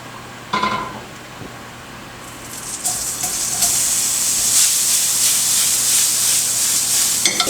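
Shrimp dropped into a pan of hot oil and butter, a quiet start then a sudden rise into a loud, dense, steady sizzle that keeps building and holds to the end.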